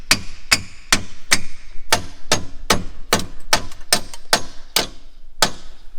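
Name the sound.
gentle tapping to push out LED light part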